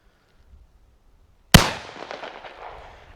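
A single sharp gunshot from a Bond Arms Blackjack derringer cracks out after a quiet moment, loud and close, followed by a short echoing decay.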